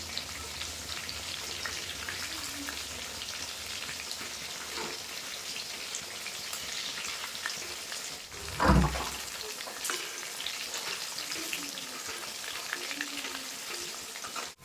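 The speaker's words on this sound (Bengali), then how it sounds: "এগুলো একই রকম লাল লাল করে ভেজে নেবো" Chicken pakoras deep-fry in hot oil with a steady, even sizzle and fine crackle throughout, interrupted briefly by a louder clatter midway, with no talking.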